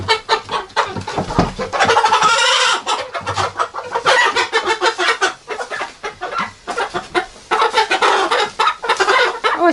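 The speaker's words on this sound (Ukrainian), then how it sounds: "Така курочка голошийка, дивіться" A naked-neck hen and a rooster cluck close by in a steady, busy stream of overlapping calls, with no voices.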